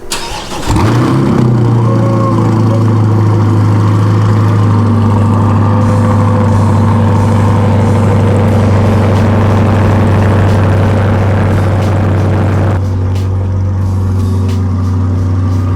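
A C8 Corvette engine with center exit exhaust cranks and fires up, then settles into a loud, steady, rasping idle rumble that runs on at close range.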